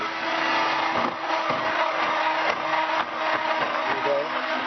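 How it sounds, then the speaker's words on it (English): A hand beater whisks a sugar mixture for cake batter, producing a close, steady whirring drone with slight wobbles as it churns. "you're going to take your handy dandy beater, okay, and you're going to kind of beat it together so it gets a little frothy here"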